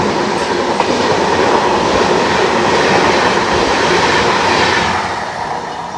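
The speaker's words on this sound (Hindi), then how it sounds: "Secunderabad Guntur intercity express." Secunderabad Guntur Intercity Express train rolls past at Vijayawada with a loud, steady rumble and rattle of passing coaches that holds for several seconds, then eases slightly at the end; no voices.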